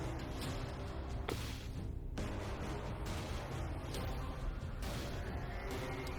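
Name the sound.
explosion sound effect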